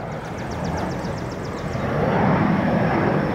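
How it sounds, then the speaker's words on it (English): A fixed-wing airplane roars overhead near an airport, passing above a historic church; a loud, steady broadband engine rumble swells slightly toward the end, with no talking. "the noise of the planes flying over the church"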